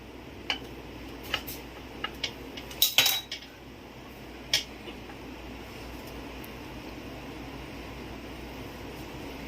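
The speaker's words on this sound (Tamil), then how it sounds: "இந்த மாதிரி லைட்டாக கத்தி வச்சு ஓரங்களை எடுத்து விட்டுக்கலாம்" Light metallic scrapes and taps of a knife loosening the edges of a donut cake in its tin, a few scattered clinks and one louder rattle, over a quiet background hum.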